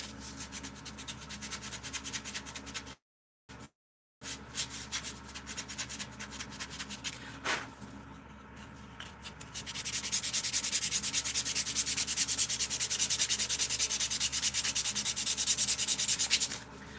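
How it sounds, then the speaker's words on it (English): Hand sanding of a wooden spoon carved in a deer blind, a steady scratchy rubbing that runs close and continuous with brief gaps, growing rougher and louder toward the end. "I'm sanding up a spoon I made in a deer blind a couple years ago"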